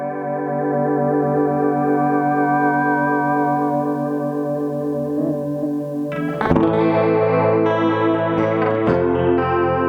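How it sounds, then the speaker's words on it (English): Held electric guitar chords through a Boss DD-7 delay pedal in modulation mode shimmer with a lush, warbling chorus effect, then new strums and picked notes ring out with the same swirling doubled tone. "This would be along the lines of what is considered a very classic chorus pedal sound."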